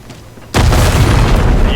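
A grenade explosion in the video game Helldivers, a sudden loud boom bursting in after a quiet half second and rumbling on to the end.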